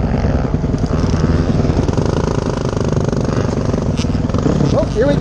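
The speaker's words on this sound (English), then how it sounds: "here we go, second ride on my animal of a bike, the 450X" A Husqvarna 450X enduro motorcycle engine runs loud and close on a trail ride at Mt Kembla, a continuous rough droning rumble with slight revving near the end and a voice talking over it.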